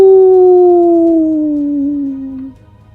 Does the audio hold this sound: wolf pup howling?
yes